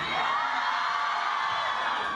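A dense crowd of fans cheers loudly and steadily as actor Kim Woo Bin arrives at a cosmetics promotion event in Beijing, with high shrieks and whoops blending into one continuous roar.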